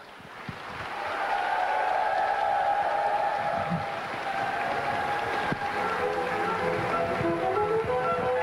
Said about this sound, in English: Please give her another big round of applause as we welcome her to the stage